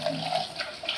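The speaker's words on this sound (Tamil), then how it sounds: "இப்போ கொஞ்சமாக புளி தண்ணி ஊற்றிக்க போகிறேன்." Tamarind water is poured into a simmering curry, a steady close splashing trickle lasting about a second.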